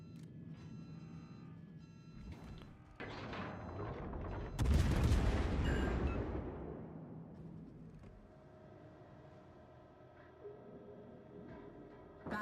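Naval gunfire in the World of Warships video game, a heavy boom that swells loud and rolls off slowly, set among softer distant shots and steady ambient hum.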